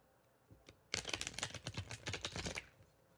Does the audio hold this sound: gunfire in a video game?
no